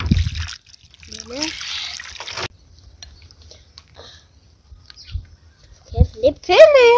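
Water runs steadily for a couple of seconds while freshly picked apples are washed, then stops; people talk around it and a few soft handling sounds follow.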